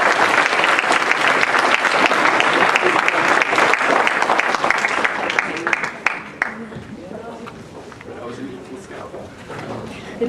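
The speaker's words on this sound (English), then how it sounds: "Can we have a round of applause for our volunteers?" A parent-night audience at a high school gives a round of applause for volunteers: loud, dense clapping for about six seconds that fades out, followed by quieter room sounds and voices.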